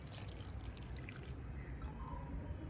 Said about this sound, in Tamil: இதில் பால் காணாது, இந்த மிளகாத்தூளை கரைக்கிற மாதிரி ஊற்றுவோம்